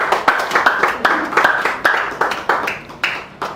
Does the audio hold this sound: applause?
yes